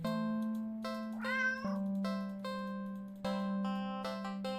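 A video game cat meows once over a steady electronic music backdrop, with layered synth tones and no speech.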